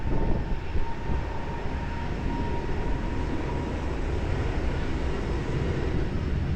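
An Airbus A320 airliner at Lisbon Airport, a steady broad engine roar with a faint whine, continuous and fairly distant, no voices.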